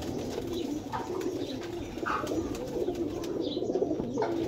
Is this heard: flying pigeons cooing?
yes